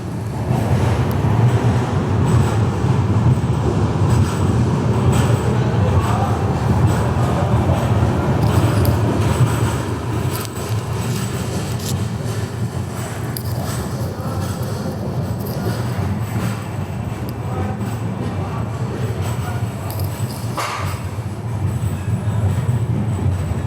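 An express train rolls slowly through Jalgaon Junction, a steady low rumble of wheels and carriages that stays loud and continuous, easing slightly partway through, with no talking.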